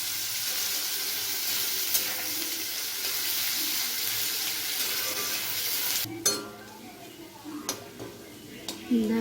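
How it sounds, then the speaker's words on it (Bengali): Sliced onions frying in hot oil until browned for Kolkata-style chicken biryani: a steady, dense sizzle for several seconds, then quieter frying broken by scraping and clattering as the pan is stirred. "পেঁয়াজগুলো দিয়ে আমি লাল লাল করে ভেজে নেব।"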